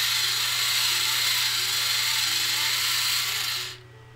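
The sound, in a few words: Derwent battery-powered pencil sharpener running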